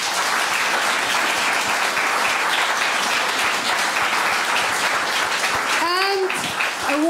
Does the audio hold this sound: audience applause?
yes